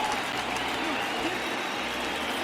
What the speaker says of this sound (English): And the crowd is starting to get into it.